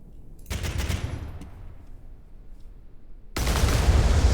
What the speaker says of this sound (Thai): อันที่ 1 เป็นปืน ไว้ยิงอัตโนมัติใส่เครื่องบินนะครับ